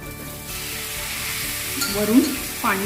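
Thalipeeth cooks on an oiled tawa with a soft, continuous sizzle of frying oil, which rises in brief, louder crackling bursts toward the end.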